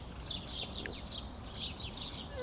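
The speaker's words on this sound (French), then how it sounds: "Vous entendez ces oiseaux?" Birds sing outdoors in Ozon la plaine, their high chirps and short trills faint and distant, repeating over a soft hiss of background noise.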